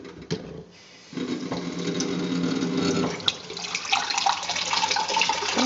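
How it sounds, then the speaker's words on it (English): Water running from a tap into flour for tortilla dough: a brief quiet pause, then a steady splashing pour that gets brighter and more gurgly toward the end. "It feels wrong to put water in flour, but such it is."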